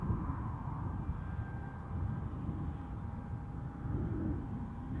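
KLM airliner departing Newcastle Airport for Amsterdam, a faint low rumbling engine roar heard from a distance, steady and droning with slight swells throughout.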